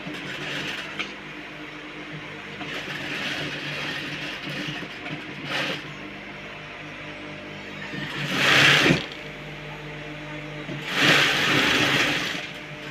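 A sewing machine stitches fabric in a steady mechanical whir, surging louder in two bursts toward the end, with no talk.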